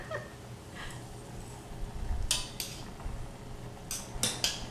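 A utensil clatters and scrapes in a pot while ketchup ramen is stirred, sharp metallic clinks in short bursts over quiet kitchen background.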